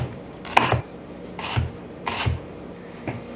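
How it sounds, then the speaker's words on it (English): An onion is cut into slices with a knife, giving four distinct crisp slicing strokes spaced about a second apart, each ending in a soft thud on the cutting board, close and clear with no talk. "I'm just going to cut it in half and then just cut it into slices."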